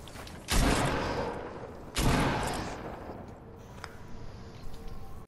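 Gunfire in a video game: two loud, sharp shots a second and a half apart, each trailing off in a long, rumbling decay, with quieter clicks and mechanical noise afterward.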